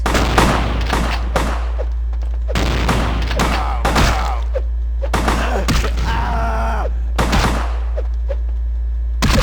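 Enemy gunfire in the Vampire: The Masquerade - Bloodlines video game, with loud bursts of shots and thumps repeating across the stretch, mixed with game effects and a groan.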